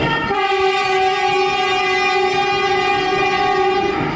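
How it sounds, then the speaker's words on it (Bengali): The Rupashi Bangla Superfast Express, running between Santragachhi and Purulia, sets off in fog with a long steady horn blast over the continuous rumble of the carriages, loud and close throughout. "আমাদের ট্রেন যাত্রা শুরু করলো কুয়াশার মধ্যে দিয়ে।"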